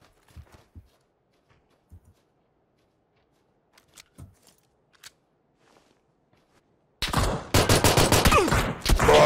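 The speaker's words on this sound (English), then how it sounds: "Oh, we're getting shot from the other side." Quiet, sparse thumps and faint movement in PUBG give way to a sudden loud burst of rapid gunfire, with repeated close shots that continue to the end.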